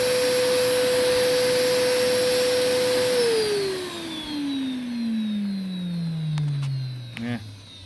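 A modified older Numatic RSV130 backpack vacuum cleaner runs through an airflow test with a loud steady motor whine that drops sharply in pitch as it spins down, ending with a few clicks and rattles.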